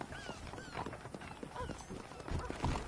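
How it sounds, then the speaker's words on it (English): Horses clip-clopping on hooves in a Western setting from the game Red Dead Redemption, steady irregular hoofbeats fairly close, with an occasional snort and faint voices in the background. "I asked Nastas to bring the horses around front"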